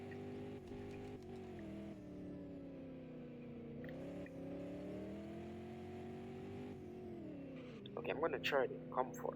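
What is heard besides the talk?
Porsche 718 Cayman GT4 RS engine revving on winding road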